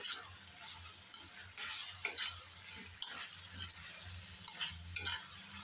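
Pieces of chicken fry in oil with tomato in a pan while being stirred, a soft sizzle broken by repeated sharp scrapes and knocks of the spoon at irregular intervals, with no talking.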